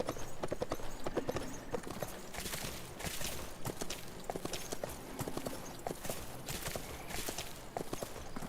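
Horse hooves in the Sacred 2 Remaster video game, a fast, steady clip-clop of hoofbeats at a gallop that carries on throughout, fairly faint and even in level.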